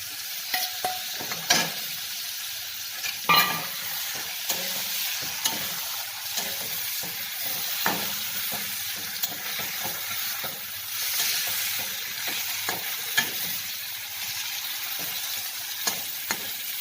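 Pigeon meat fries in hot oil while being stirred, producing a persistent sizzle with repeated scraping and clinking of a spatula against the pan, close and fairly loud.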